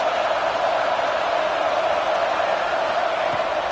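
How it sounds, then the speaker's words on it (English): A packed college football stadium crowd roars steadily to help the defense, a dense, sustained wash of cheering with no breaks across the whole stretch. "Listen to this crowd just shaking the girders of this place trying to help their defense."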